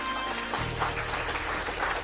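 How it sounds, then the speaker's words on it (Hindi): An audience claps at an Ambedkar Jayanti commemoration, a dense, steady burst of applause that fills the whole short stretch. "जोरदार ताली बजाएं"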